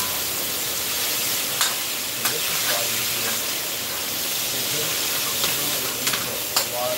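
Fried rice sizzling and hissing as it is stir-fried in a new wok, a loud, continuous frying roar with a few sharp clanks of the utensil against the metal.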